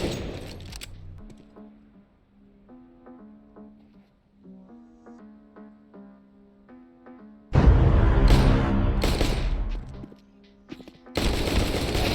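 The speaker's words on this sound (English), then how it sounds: "after running out of AK bullets I chase him down with my Glock" Gunfire in CS:GO with a Glock pistol: quiet tonal game music gives way to a sudden loud burst of rapid shots, a short pause, then another dense volley, close and harsh.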